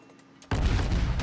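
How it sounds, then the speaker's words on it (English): A warship's gun salvo in World of Warships sounds after a brief quiet moment as a sudden loud, deep blast, with the rumble holding steady and heavy for the rest of the moment. "throws out a few gun rounds, launches torpedoes, gets a hit on that first salvo"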